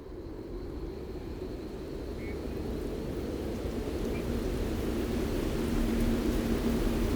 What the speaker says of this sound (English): the tropical wet season brings storms and flooding to Australia's far north. As the monsoon unfurls curtains of rain